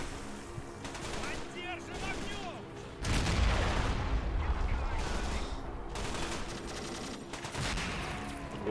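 Machine gun bursts and mortar fire in a video game battle, a steady rattling barrage with heavier booms, with people talking over the action.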